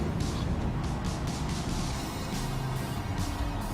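Super late model race cars roar past on a track, giving a loud, continuous engine rumble with several sweeping passes as cars come by one after another, close and fairly steady in level.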